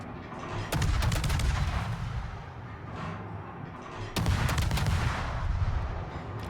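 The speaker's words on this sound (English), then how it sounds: "Montana wants to play with us again, firing HE, thinking that will actually do something" Montana battleship firing HE shells in World of Warships: two sharp, loud salvo bursts a few seconds apart, each followed by a rolling, rumbling decay, with no talking.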